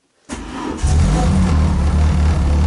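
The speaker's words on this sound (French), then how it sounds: "Et voilà. Premier démarrage." A Renault Clio 2 RS Minicup engine cranks and catches for the first time inside a home garage, settling right away into a loud, steady, rumbling idle with no voices over it.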